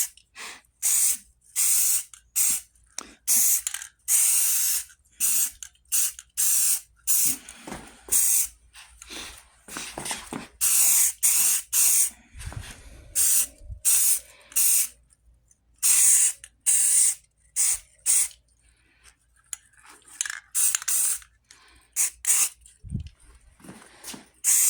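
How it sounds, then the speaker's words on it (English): High-temp silver spray paint hissing onto Coleman lantern parts in a paint booth, many short repeated bursts with brief gaps between them, fairly close and steady in loudness. "we are going to spray paint that thing with our high-temp silver"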